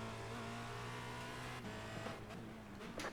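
Race car engines in a sim racing game hum and whine steadily at low volume, with a few engine pitch changes and faint clicks toward the end and no talking.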